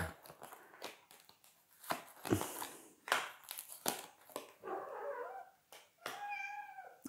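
A pet cat meows in short calls toward the end while shuffling and rustling movement sounds come and go nearby, with the room otherwise quiet.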